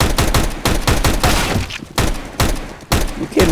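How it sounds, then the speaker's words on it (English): Tech 9 pistol shots in CS:GO, loud and close, fired in quick uneven clicks with short pauses between bursts. "Let's try the Tech 9 here"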